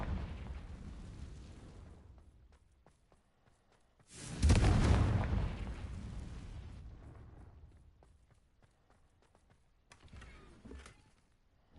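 A Confringo explosion spell in the Hogwarts Legacy video game: one sudden, loud, booming blast that rolls on and slowly fades over several seconds, followed later by a smaller crackling burst.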